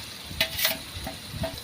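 Masala sautés in oil with tomato for a goat intestine curry: an even, close sizzle broken by a few short scraping stirs, with no one speaking.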